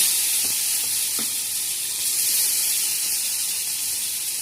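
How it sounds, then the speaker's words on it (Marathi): Lemon pieces cooking with cumin, mustard seeds, turmeric and chilli masala for pickle over a low gas flame, a steady close sizzle and hiss with a couple of faint clinks early on. "असंच थोडा वेळ वाफवत ठेवणार स्लो गॅसवर"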